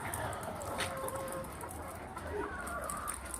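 Laying hens cluck and squawk in a chicken farm house, a dense, steady chorus of overlapping calls at moderate distance with occasional sharper cries standing out.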